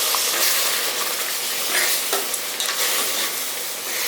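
Water poured into hot semolina for upma bubbles up in a loud, continuous, close-up hissing sizzle with faint stirring scrapes, and no voices.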